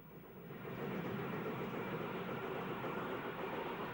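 BR 9F steam locomotive 92193 hauling a fitted freight train near Retford in the 1960s, a steady continuous rumble of rolling wagons heard at moderate distance, no voices.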